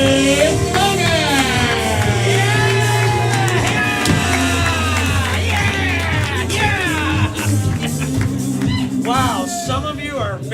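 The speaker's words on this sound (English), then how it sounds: "put your hands together, start clapping, let's start making some noise" Comedy show audience cheering, whooping and clapping for the host, a dense, loud, sustained roar of many voices close around, with shouts rising over it throughout.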